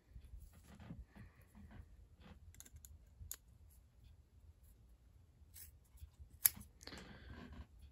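Scissors cut leather pieces for a flintlock rifle in a series of quiet, scattered snips and small clicks, with a sharper cut near the end.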